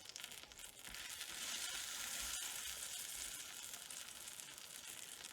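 A chicken quesadilla browns in a hot pan, giving a steady, close sizzle and frying crackle that swells after the first second and carries on evenly, with no talking.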